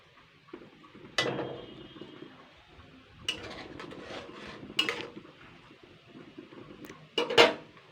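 A spoon stirs chana dal fritters simmering in a pot, giving a few scraping and clinking knocks against the metal pot at uneven intervals over soft background noise.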